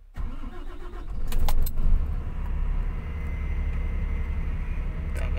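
A Nissan Quester truck's engine cranks briefly and catches from inside the cab. The diesel rumble builds to a loud surge and then settles into a steady idle. A brief jangle of keys can be heard near the start.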